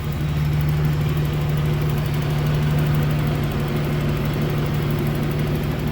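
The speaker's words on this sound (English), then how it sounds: "Just idling perfect at 950." A Nissan 200SX S12 with a freshly swapped motor idles steadily at about 950 rpm, a smooth, even hum heard close up with no talking.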